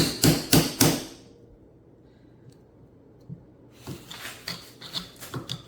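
Sharp metallic strikes of a hammer on a screwdriver ring out, three quick blows, then a quiet pause before a series of lighter taps and knocks.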